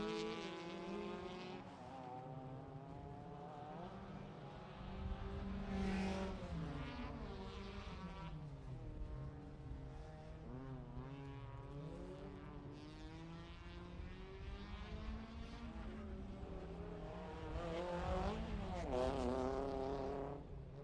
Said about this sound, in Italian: sta per giungere l'equipaggio numero 15, inseguita dal drone Irene Memmi con Alessandro Manco, Renault Clio N2000 della Salento Motori